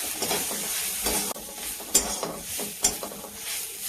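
A spoon stirs and scrapes a potato and spice mixture with red chilli powder and pav bhaji masala in a pan for palak batata vadi, giving irregular close scraping strokes over a soft sizzle with no talking.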